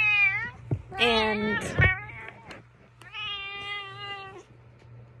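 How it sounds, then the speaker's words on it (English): Cat meowing indoors in several drawn-out, wavering meows and a short yowl, close and clear, over a faint steady hum, with a brief spoken word in between. "this is my cat."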